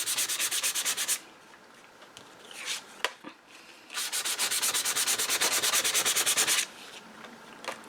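Hand sanding across slick collage pieces makes close, raspy scratching in two sustained passes, separated by a short pause with a few taps and rubs, with no other sound.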